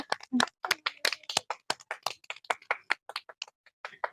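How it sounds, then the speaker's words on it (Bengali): A few people clap their hands in irregular, sharp claps, close and fairly loud, with short gaps between them. "হাততালি দাও সবাই হাততালি দাও"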